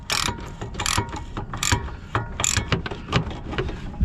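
Ratchet wrench clicking in quick repeated bursts while loosening a strut nut on a 1998 Toyota Camry during front strut replacement, close and fairly loud, with no talking.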